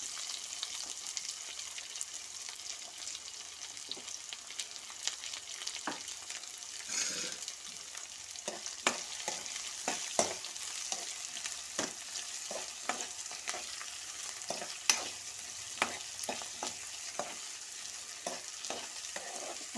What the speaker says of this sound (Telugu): ఇప్పుడు నేను ఆనియన్స్ వేసేసుకుంటున్నాను.